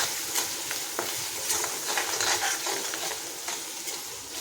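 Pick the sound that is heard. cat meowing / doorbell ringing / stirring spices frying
stirring spices frying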